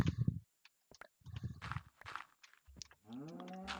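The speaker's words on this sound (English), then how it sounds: "Moo! Moo to you too." A Minecraft cow gives a low, drawn-out moo near the end, after soft clip-clop footsteps and clicks from gameplay, fairly quiet overall.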